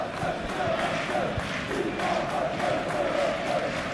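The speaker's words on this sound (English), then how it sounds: "the crowd clearly liked what they just saw" A football stadium crowd at a Premier League match between Nottingham Forest and Manchester United keeps up a steady, dense roar of cheering and chanting that fills the whole stretch at even loudness.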